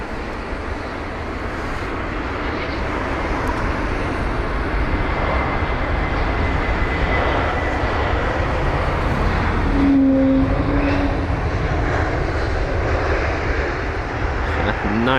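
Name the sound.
Airbus A320neo engine wookie noise, Heathrow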